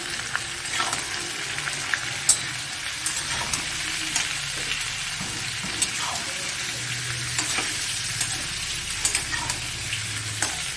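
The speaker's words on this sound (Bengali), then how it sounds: "আলুটাকে ভালো করে আমি ভেজে দেবো" Potatoes fry with turmeric in a pan, giving a constant close sizzle with light stirring scrapes and an occasional sharp tap, and no talk over it.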